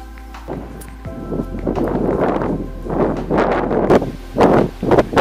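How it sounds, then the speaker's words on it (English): Strong wind buffets the microphone beside the Round Valley Reservoir dam in New Jersey, a steady low rumble with gusty surges and rustling bursts throughout, loud and close, no talking. "It's pretty windy here."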